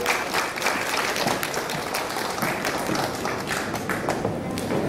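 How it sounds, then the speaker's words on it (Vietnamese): Sustained audience applause after a cha-cha dance performance, dense and steady clapping filling the room for several seconds without a break. "xin quý vị cho thêm một tràng pháo tay nữa ạ."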